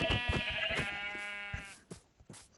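A sheep bleats several times in the Minecraft video game, a near, harmonic blocky bleat with short repeated calls over about two seconds, fading at the end with a few soft thumps.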